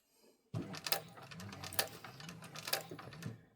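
Sewing machine stitching a fabric pouch, a rapid close mechanical chatter that starts abruptly and runs steadily for about three seconds, with rhythmic clicking peaks and no talking.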